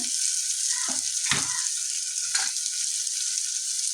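Onion and tomato sizzle steadily in a pan for a vegetable kurma as cut carrots drop in, with a few soft stirring clunks over the continuous frying hiss.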